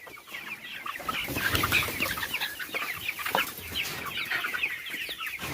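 A flock of village free-range chickens clucks steadily close by, overlapping calls and brief squawks rising and falling without any talking.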